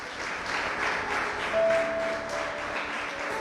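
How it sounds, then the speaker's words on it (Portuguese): A church congregation applauds together in a sustained, even wash of clapping at moderate volume, with a faint steady tone sounding underneath partway through. "Aplauda o Senhor Jesus."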